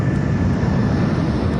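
Steady, broad engine roar of a British Airways airliner cruising near Heathrow, a constant dense rumble with a faint tonal whine, loud and unbroken, with no voices.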